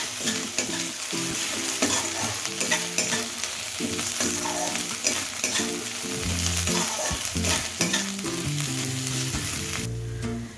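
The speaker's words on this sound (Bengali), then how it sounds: "আদাটাকে একটু ভেজে নেব যাতে কাঁচা গন্ধটা চলে যায়" Grated ginger and a pinch of asafoetida fry in hot oil in a pan, crackling and sizzling continuously while a utensil stirs and scrapes in a steady rhythm, close and fairly loud, no talking.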